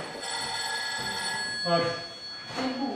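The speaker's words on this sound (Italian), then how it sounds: "C'è un cellulare che squilla." A mobile phone rings at a fencing training session in a fencing academy, its tonal electronic ringtone running steadily under room noise and voices from the fencers.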